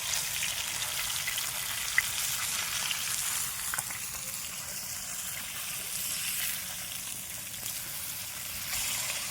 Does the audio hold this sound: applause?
no